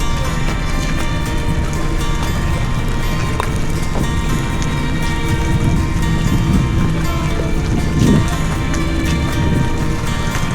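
Steady rain keeps falling on Pulau Mabul island in Sabah, a constant hiss of drops pattering on nearby surfaces for the whole stretch, with occasional louder splashes and no talking.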